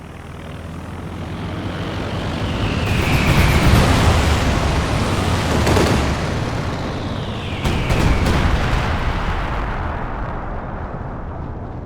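An aircraft roars overhead on a bombing run in Company of Heroes 2. Heavy rumbling bomb blasts follow, with two swelling waves of loud, dense noise.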